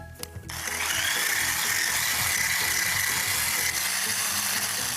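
A steady, loud motorized whirring and grinding of an electric blender mixing a cheese casserole batter, running continuously after a brief quiet start.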